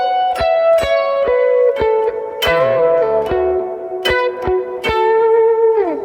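A blues guitar motif lick played through an effects unit with light distortion: repeated picked notes and a harmony bend, clear sustained tones ringing one after another, played alone.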